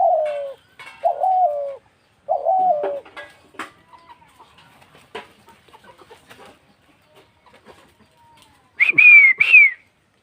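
A red collared dove gives three short, close, descending coos in quick succession, followed by scattered clicks and rustles and a final pair of higher, brighter calls.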